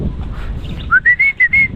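Several short, clear whistling calls of pigeons inside a market in Arayat repeat in quick succession over a low background rumble, close by.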